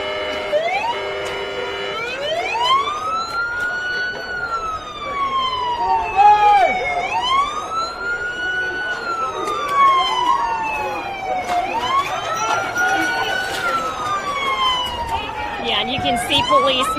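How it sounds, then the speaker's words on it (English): Wailing police car sirens from an IMPD unit driving down a downtown Indianapolis street during night protests, loud rising-and-falling cycles that overlap with a yelping tone, over street noise. "You hear those sirens. IMPD has a unit driving down the street."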